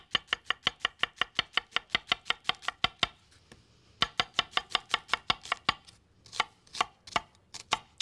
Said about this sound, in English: we're going to take some slices of onion